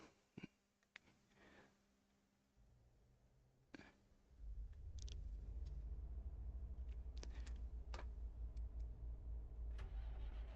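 A 1,000-horsepower truck engine in a truck driving game turns over after a few clicks and settles into a steady, deep rumble that fills the rest of the moment, fairly subdued rather than loud.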